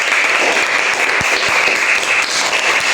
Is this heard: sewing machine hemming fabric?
no